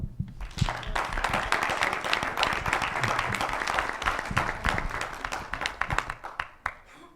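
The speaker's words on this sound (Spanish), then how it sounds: "Para finalizar la exposición de la licenciada Janet Amparo Sandra Canedo, por favor un aplauso." Following a lecture on handling information in social conflict, the audience breaks into applause, building quickly, holding full and close, then tapering into scattered individual claps.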